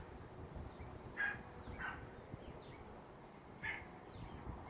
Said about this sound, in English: Doggy in the neighborhood.